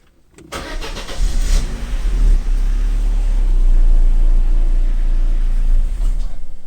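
An Opel Astra H 1.6 petrol engine cranks and catches, then runs at a loud, steady idle with a deep rumble close by.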